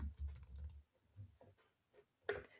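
Keyboard typing on a computer during editing software setup, a few quiet bursts of keystrokes in short clusters, close and soft with pauses between.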